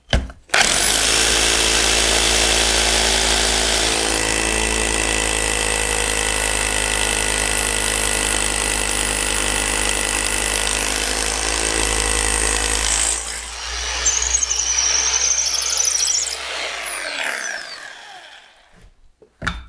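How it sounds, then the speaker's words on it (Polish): A power drill with a 10 mm bit bores through aerated concrete at close range. A loud, continuous motor whine with grinding texture lasts around thirteen seconds, then falters and winds down, with no talking. "Lecimy z wierceniem."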